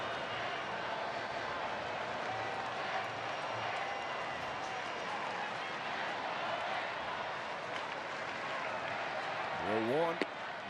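A baseball crowd at a Pirates at Angels game in Los Angeles roars and applauds steadily, a broad, sustained wash of cheering throughout, with a faint announcer voice mixed in.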